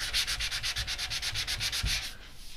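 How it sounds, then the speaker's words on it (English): Rhythmic strokes of sandpaper rubbing over a painted wooden radiator cover, about a dozen quick even passes close up, with no voices. "Now I'm sanding it back smooth again"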